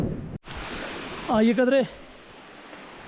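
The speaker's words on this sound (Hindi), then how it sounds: "ये वाटरफॉल है, पत्थरों के दरमियान से पानी आ रहा है" Water from a waterfall pours between rocks on a trek to K2 Base Camp, a steady broadband rush heard close by, briefly cut out and then joined by a short spoken phrase.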